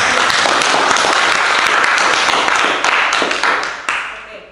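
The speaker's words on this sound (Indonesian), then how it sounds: "tepuk tangan dulu." A school class claps together in a classroom, loud close dense applause sustained for a few seconds before tapering off, with a voice briefly audible near the end.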